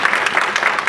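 A church concert crowd applauds with a brief, loud wash of dense clapping that fills the hall for about a second.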